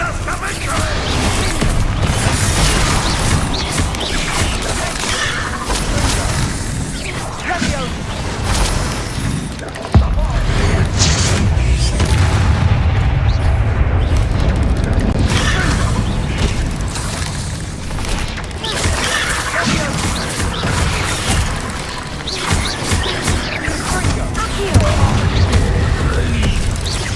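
Bombarda blasting spell going off in Hogwarts Legacy combat, a dense stretch of loud booming explosions and crashing impacts with a sharp burst near the middle, layered over game battle noise and occasional character voices.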